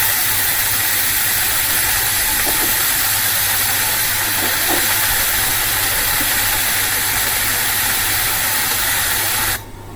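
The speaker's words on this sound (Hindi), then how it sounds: "अब ग्रिल पैन में चिकन को ग्रिल कर लें जब तक कि गोल्डन ब्राउन कलर इस पे ना आ जाए" Chicken searing in a hot grill pan for chicken tikka masala, giving a loud, steady sizzling hiss that runs unbroken, then drops off sharply just before the end.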